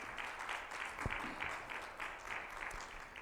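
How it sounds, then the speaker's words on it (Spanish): Church congregation applauding for Jesus Christ at a Spanish-language service, a steady, moderate wash of clapping from a fairly distant crowd that carries on evenly with no voices standing out. "Démosle un aplauso a Jesucristo."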